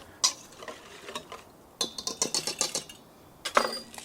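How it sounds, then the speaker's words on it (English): A whisk beating a marinade of brown sugar, pineapple juice and Old Vine Zinfandel red wine in a bowl, quick rhythmic ticking strokes in short bursts separated by pauses, close and fairly quiet. "I'll get this all whisked up."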